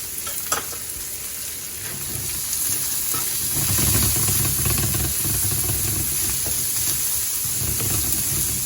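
Onion dropped into hot olive oil in a pan sizzles up and swells into a loud, steady frying hiss with a low bubbling rumble, close by and without talk.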